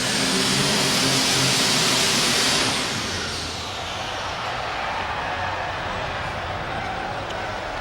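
A John Deere alcohol super stock pulling tractor roars at full power at an indoor pull in Louisville, loud and sustained, easing off slightly after a few seconds while crowd noise and an announcer's voice carry underneath.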